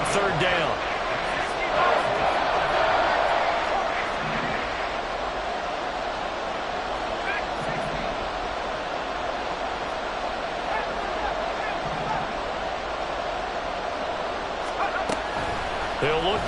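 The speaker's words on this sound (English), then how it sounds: "The crowd getting into it as we come up on a big 3rd down" In the Madden 24 video game, a stadium crowd keeps up a dense, continuous roar with scattered thumps and swells throughout. A commentator's voice runs faintly underneath.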